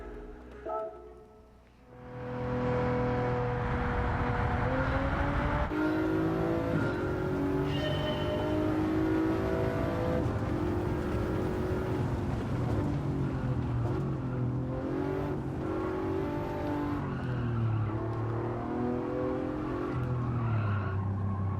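A race car in Gran Turismo 7 brakes and corners. The engine drones loudly and steadily while tires squeal and the pitch rises and falls through the turns, with no talk.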